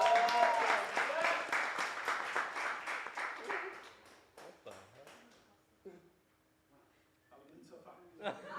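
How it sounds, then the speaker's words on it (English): An audience at a magic show claps loudly for about four seconds, then the applause thins and fades into scattered claps and quiet room sounds. "Everyone give them a huge round of applause."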